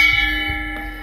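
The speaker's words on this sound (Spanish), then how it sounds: "Ese paso lo tocan ese timbre y ya salen las personas." A pedestrian crossing button bell rings with a steady electronic tone and sustained harmonics, a brief clear chime over low street hum.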